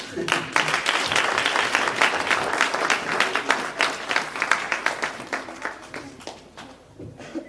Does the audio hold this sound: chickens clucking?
no